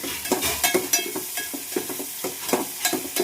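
Onions frying in a pan with a continuous close sizzle, punctuated by rhythmic scraping and stirring strokes of a spoon.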